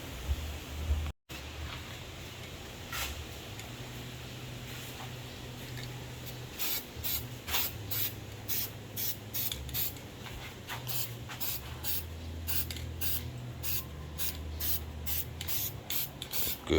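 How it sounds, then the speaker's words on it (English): Rust-Oleum hammered spray paint hisses from a can onto a Sea Ray 240 outdrive part in repeated close bursts, at first spaced and then quick and regular, with faint handling noise in between. "I'm going to spray that with some Rust-Oleum paint, that hammered Rust-Oleum that I brought from the US"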